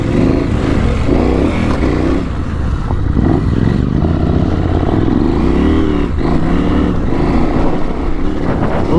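Motorcycles fitted with Dunlop Trailmax Mission tires ride off-road on dirt, engines droning loudly and continuously with rising and falling revs, buffeted by heavy wind rush.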